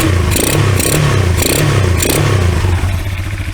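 A $100 four-wheeler ATV engine runs loud and close in first gear, pulsing with repeated throttle blips in a choppy rhythm before easing off toward the end.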